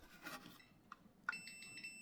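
A multimeter on continuity test gives a short high beep and then holds a thin steady tone, quiet and close, after some faint rustling, while checking a switch in a PlayStation 1.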